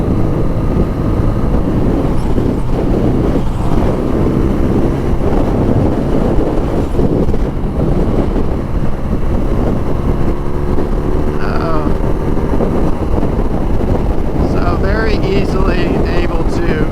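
A 2019 BMW R nineT naked motorcycle cruising at highway speed, engine drone buried under a steady, loud roar of wind buffeting the microphone throughout.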